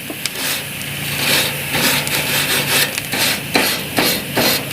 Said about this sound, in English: I didn't clean my grates off